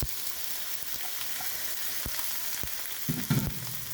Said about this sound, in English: by sauteing our onions and peppers that I cut earlier.